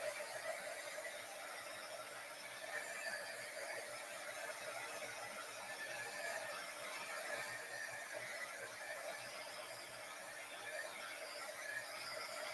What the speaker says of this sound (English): Never gets old watching heat setting.